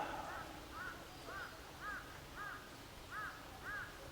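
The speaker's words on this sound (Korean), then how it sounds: "온갖 소리들, 뭐 까마귀 소리도 들렸다가" A crow caws repeatedly in an even series of about eight harsh calls at a moderate distance, set against a steady outdoor background hum with faint murmuring voices.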